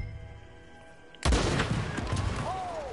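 After a quiet stretch, a sudden loud gunshot bursts out in the video game Red Dead Redemption 2, followed by a rumbling, echoing tail and further sharp cracks.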